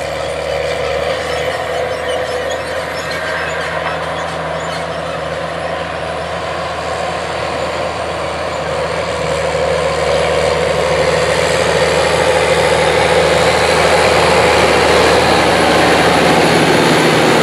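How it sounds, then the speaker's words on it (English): A New Holland TG210 tractor pulling a Great Plains Turbo Till through a field for spring tillage: a steady, loud diesel engine drone with rattling implement noise, holding constant and building slightly stronger partway through, with no talking. "let's head out to the field so you can see and hear all this spring tillage action"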